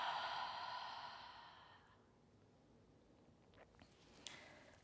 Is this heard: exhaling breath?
yes